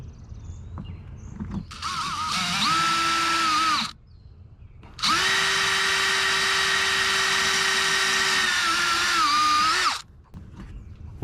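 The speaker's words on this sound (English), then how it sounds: "I am using a 3/16 drill bit." A power drill fitted with a 3/16 drill bit bores holes during a trailer wiring install on a Honda Civic, two sustained whining runs, the second longer with a pitch dip near the end, loud and close with brief pauses between.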